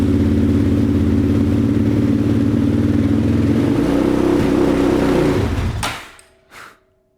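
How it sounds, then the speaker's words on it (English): A Yamaha Raptor ATV with a rev limiter problem idles loudly close by, its engine pitch shifting as it is revved, then it abruptly dies into near silence, followed by a brief click. "Let's see if we can get it to rev at all."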